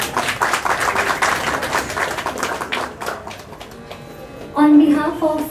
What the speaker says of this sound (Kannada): ಸೊ ಇನ್ನು ಮತ್ತೊಮ್ಮೆ ಜೋರಾದ ಚಪ್ಪಾಳೆ